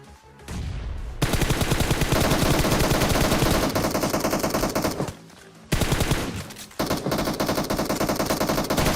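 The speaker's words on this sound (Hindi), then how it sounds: "लेकिन जब मैं फायरिंग करता हूँ" Automatic gunfire in PUBG Mobile, including M4 rifle fire, rattles in long, loud sustained bursts that break off for brief pauses and then resume.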